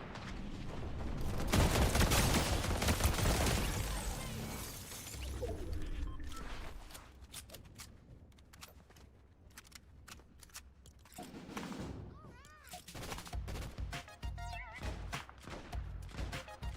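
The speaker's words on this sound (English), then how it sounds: "You guys hear this guy shooting, right?" Gunfire in the video game Call of Duty on Rebirth Island, loud bursts of rapid shots and clattering early on, then scattered quieter shots and game effects trailing off.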